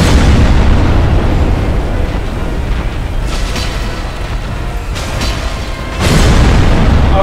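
Heavy booming impacts from a two-handed jumping attack in Dark Souls, loud and continuous, with a few sharper hits near the middle and a renewed surge of rumbling force at the end.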